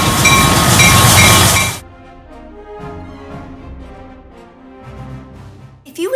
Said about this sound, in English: the engine was unhooked and moved to the front